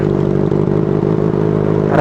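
Benelli TNT 600i motorcycle with a Two Brothers exhaust holding a loud, throaty idle up close, its steady rumble pulsing evenly before a slight rise in revs at the very end.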